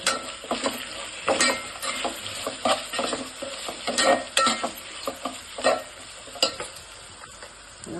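Ginger-garlic paste sautéing in a pan, with a steady close sizzle broken by repeated scraping stirs of a spoon against the metal throughout, and no voices.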